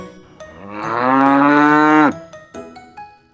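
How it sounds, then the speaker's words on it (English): A cow moos once, a long, loud, close bellow that swells and holds for over a second, with a few soft knocks and clicks before and after. "What does the cow say? That's right. Moo."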